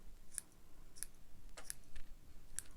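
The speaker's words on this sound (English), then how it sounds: "I'm not afraid to pull out the scissors and snip this one" Four crisp scissor snips through fabric spaced about half a second apart, close and fairly quiet, with no talking.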